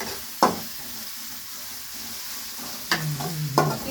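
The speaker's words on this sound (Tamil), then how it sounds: "இப்படி ஒரு கலக்கு" A pan of noodles being stirred: a couple of short scraping clinks of a utensil against the pan, separated by quiet stretches, with a faint sizzle in the background; no one speaks.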